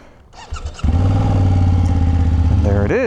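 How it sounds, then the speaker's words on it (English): A BMW F 900 GS Adventure with a 270-degree crank parallel-twin engine cold-starts close by, a short starter whir catching into a loud, steady, throbbing idle before a rising squeal at the end. "let's turn on the bike and fire it up for a little cold start"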